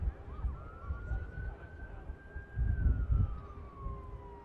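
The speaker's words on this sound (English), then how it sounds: "fire engine sirens are going again" Fire engine sirens near Manchester Airport: a faint, distant wailing tone rising and slowly falling over a few seconds, above low traffic and wind rumble.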